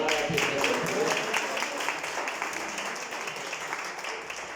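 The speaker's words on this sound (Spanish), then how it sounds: "Démosle un aplauso a mi hermana" An audience at a home religious gathering claps for a participant's sister, a soft, steady patter of applause somewhat distant and even.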